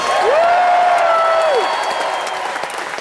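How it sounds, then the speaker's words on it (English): A crowd at a business seminar applauds for Bill, with thick continuous clapping and a rising whistle or whoop early on, then the clapping slowly thins and fades. "give Bill a round of applause."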